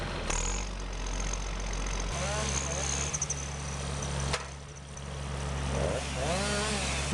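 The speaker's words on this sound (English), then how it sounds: "that's where the John Deere 1110D forwarder shows what it's made of" A John Deere 1110D six-wheel-drive forwarder of nearly 17 tons runs its engine at a steady, rumbling drone while it works through muddy, swampy forest ground. The machine is loud and close, its pitch rising and falling with load, and no one speaks.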